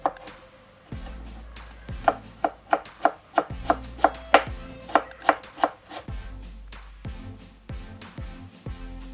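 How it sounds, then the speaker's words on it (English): Knife chopping sweet peppers, scallion and onion on a cutting board for potato salad, a run of sharp, close, fairly rhythmic thuds that speed up into quick bursts, then slower scattered cuts. "Now hubby is gonna cut up some sweet peppers, scallion and onion for the potato salad"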